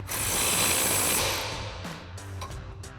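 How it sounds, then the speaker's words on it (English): An impact wrench with a 21mm socket tightens the lower shock bolt on a 2019-2024 RAM 1500 rear suspension, giving a loud hissing, rattling burst of about one second that then fades into quieter clatter. "we'll grab our impact, 21mm socket and 21mm wrench and tighten that down"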